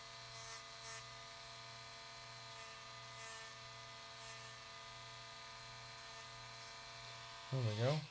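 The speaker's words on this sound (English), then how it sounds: "So we're going to go around here with our Dremel kind of angled." A Dremel rotary tool, held at an angle, carves a light-bulb-shaped divot with a faint, steady, whining hum that dips and wavers in pitch near the end as it bites in.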